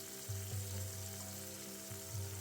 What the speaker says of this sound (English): Get it sizzling away with the butter and the garlic and the coriander